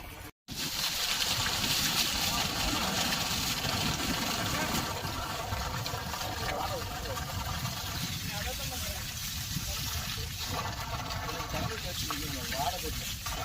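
A 1.5 kW BLDC water pump running on solar power delivers a steady, loud rush of flowing water with a faint mechanical hum beneath, continuous after a brief dropout at the start, with someone talking over it.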